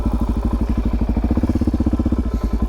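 A motorcycle engine thumps in a fast, even, loping rhythm close to the microphone, loud and steady as the rider turns the bike around, with no talk over it.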